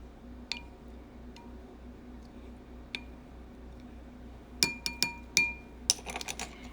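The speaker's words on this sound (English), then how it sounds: "with the spoon, I'll just get it going and stir it in here" A spoon stirring black-eyed peas in a pot, with scattered light metallic clinks that come sparse at first, then as a quick cluster of taps and scrapes near the end over a quiet room hum.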